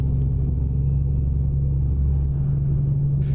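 Road traffic rolls past in American Truck Simulator with the Sound Fixes Pack mod, a loud continuous low rumble of passing vehicles over a steady engine drone, with no talking.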